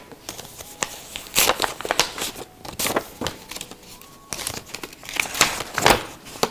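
A paper envelope is torn and opened by hand, giving repeated close crinkling, rustling and ripping bursts spread over several seconds, with no talking.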